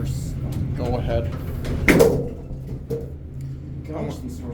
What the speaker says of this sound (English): Gosh, these doors are loud.